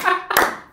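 A few hands clapping in a small podcast room, scattered sharp claps in short bursts, close and loud, with a brief gap between them.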